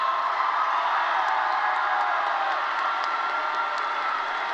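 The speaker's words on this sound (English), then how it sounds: "please stand to your feet and give your parents and families a round of applause." A graduation ceremony audience in a high school setting gives families a round of applause: dense, steady clapping that holds at an even level throughout, with no pause.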